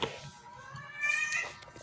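Several house cats meow and yowl in a squabble, high strained cries rising loudest in the second half, fairly close and alone without talk.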